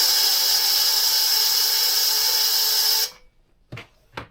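An R/C electric motor spins at high RPM on a test rig, giving a loud steady high-pitched whine for three seconds that cuts off abruptly, then two soft thumps.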